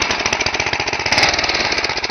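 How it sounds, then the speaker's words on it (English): A 10-horsepower Tecumseh go-kart engine chugs in a rapid, rattling putter, loud and close, running steadily with no talking. "10 horse, Tecumseh engine, and you're gonna do some racing. Fire that up."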